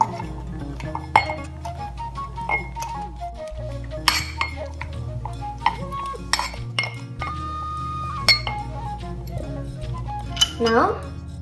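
Ice cubes clink against a glass while an iced tea is being made, giving sharp scattered knocks and chimes over a steady music bed, with a voice talking in places.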